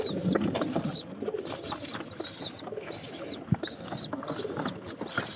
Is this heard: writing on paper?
no